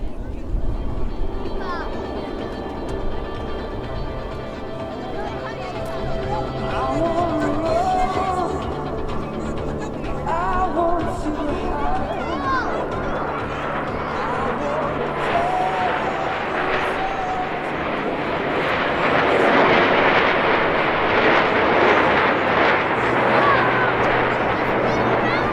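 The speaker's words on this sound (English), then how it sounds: "At 400 miles per hour, the Diamond Roll. All 4 aircraft flying as one in this graceful 360-degree rolling maneuver." Blue Angels jets of the U.S. Navy, four aircraft rolling together in a diamond formation at 400 mph at an airshow, produce a broad, loud jet roar that swells toward the end, heard under a narrator's voice throughout.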